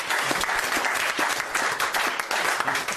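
Brief burst of dense applause from an audience watching a close-up magic trick, continuous clapping at moderate loudness, close and unbroken.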